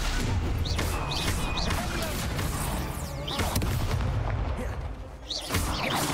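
Spell-casting effects in a Harry Potter wizard-duel video game, with dense blasts, booms and crackling impacts layered continuously over loud rumbling combat noise.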